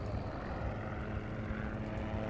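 A dense, steady rotor-and-engine roar of helicopters in the video game Project Zomboid fills the whole clip, loud and continuous with no pauses and no voices.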